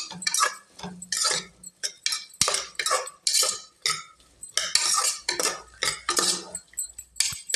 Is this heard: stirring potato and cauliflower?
yes